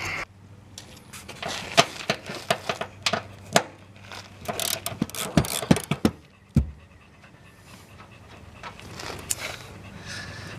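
A 6.15 millimeter socket on a wrench works a small, odd bolt loose, giving irregular ratcheting clicks and metallic knocks in bursts, then a sharp clank and quieter handling.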